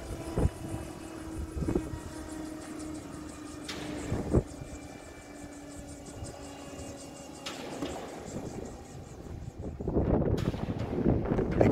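A Guimbal Cabri G2 or Robinson R22 helicopter winds down on the ground after landing, its rotor whooshing in slowing pulses over a steady engine drone, with a louder rushing swell near the end.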